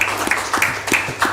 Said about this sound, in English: Will y'all give him a round of applause,